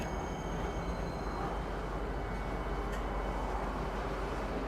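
In the Star Citizen space game, a train pulls into TISA Spaceport with a steady, low mechanical rumble and rolling hum that stays constant and moderately loud the whole time, with no talk.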